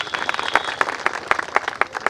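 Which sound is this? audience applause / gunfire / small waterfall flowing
audience applause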